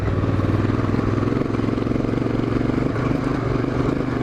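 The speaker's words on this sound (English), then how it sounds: "Got Luke behind me on the DRZ, he's keeping me up, harassing me" Suzuki DRZ dirt bike riding on a sandy track in the Hunter Valley: a steady, close engine drone with a rapid pulsing beat and no break, running alone at a constant loud level.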